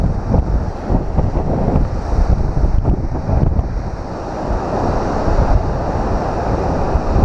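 Ocean waves crashing and spraying against the rocky shore at Pemaquid Point lighthouse in Maine, a loud continuous roar of surf with heavy wind buffeting the microphone and rain, no voices.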